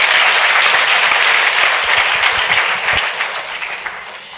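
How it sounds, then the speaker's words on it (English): Audience applause at a science forum opening plenary, a loud, dense wash of clapping from a large hall crowd that holds steady before gradually tapering off toward the end. "Let's give them another round of applause."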